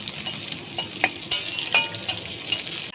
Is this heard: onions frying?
yes